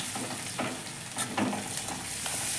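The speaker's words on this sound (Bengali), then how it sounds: "পেঁয়াজটাকে আমাকে একটু লাল লাল করে ভেজে নিতে হবে" Chopped onion sizzles steadily in hot oil for a shrimp and taro-stem curry, with faint stirring scrapes breaking through now and then; a close, continuous frying hiss carries the whole way, and no one speaks.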